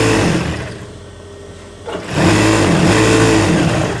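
An electric sewing machine stitches a kameez in two steady whirring runs, close and continuous, with a brief slowdown and pause before the second run.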